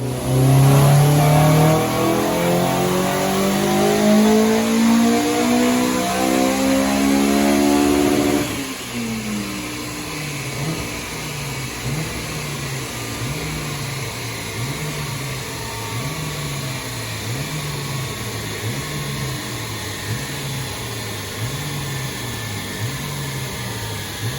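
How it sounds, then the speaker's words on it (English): Tuned Honda Civic Type R (EP3) with a K20 engine revs hard on a dyno, a loud sweeping rise to high rpm for about eight seconds, then drops to a rhythmic, pulsing idle-like burble that continues steadily. "the noise of the car on the dyno sounds great"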